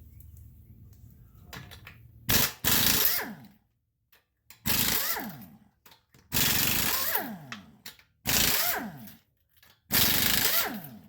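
Pneumatic impact wrench used while fitting Eibach lowering springs to a 2014 Dodge Challenger, firing in five loud, close bursts of a second or so each, separated by short pauses, with low compressor-like hum early on.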